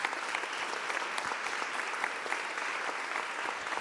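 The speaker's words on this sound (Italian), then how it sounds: "a lui va un grosso applauso" Sustained audience applause in a theatre at a talk about a production of Otello, dense steady clapping from a crowd throughout, fairly even in loudness with no voices on top.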